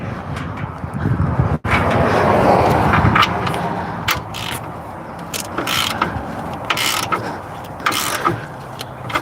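A wrench cranks to tension a belt on a school bus during maintenance. It gives loud, close, continuous ratcheting and mechanical grinding, broken by a brief drop, then steady clicking and rasping with no talking.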